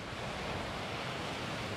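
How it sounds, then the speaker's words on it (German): Sea waves washing onto the shore at Portixol, El Molinar, forming a steady, fairly close broadband rush of surf with some wind, heard alone without any voices. "Und Wellen zu sehen."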